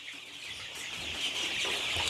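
Egyptian Fayoumi chickens on a poultry farm cluck softly nearby, a short run of clucks over faint background hiss.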